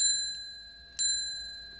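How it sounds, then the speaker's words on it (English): A spring-loaded hammer strikes the metal bell on a Lionel 6220 Santa Fe NW-2 diesel switcher toy locomotive, giving two clear, close, ringing dings about a second apart, each fading slowly. "when I push it up and let it go, it strikes the bell."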